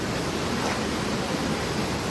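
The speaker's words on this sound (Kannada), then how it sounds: "ಇಲ್ಲಿ ನೋಡ್ರಿ ನೀರು ಆ ಥರ ಹೋಗುತ್ತೆ." A mountain stream runs down a hillside along the Netravati Peak trek, giving a steady, close broadband rush of flowing water with no talk over it.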